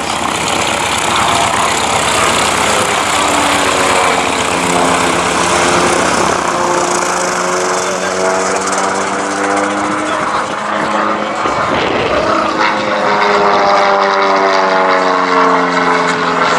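A Bulldog propeller trainer aircraft runs its engine at an airshow in Lincolnshire, a loud continuous drone with a shifting, rising and falling pitch throughout.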